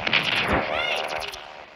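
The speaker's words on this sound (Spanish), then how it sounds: "el rayo láser." Laser ray weapon firing in the video game Chicken Gun, a short zapping burst with sweeping tones, fairly loud and close, over continuous game noise.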